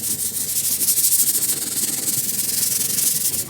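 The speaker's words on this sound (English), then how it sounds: "then scuff sand the entire back" Sandpaper of 320 grit scuffs across the back of a guitar in quick, steady back-and-forth strokes, a close, hissing rub heard on its own.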